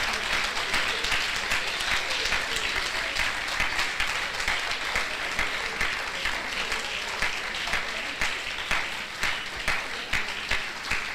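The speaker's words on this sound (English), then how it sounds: "A big round of applause for him." A room full of people applauds steadily, the clapping dense and sustained for several seconds, with faint voices mixed in.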